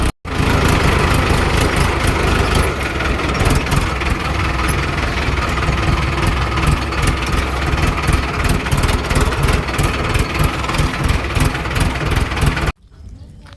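A tractor engine runs steadily and loud at close range for about thirteen seconds, a continuous low rumbling drone with rhythmic pulsing, then cuts off abruptly near the end.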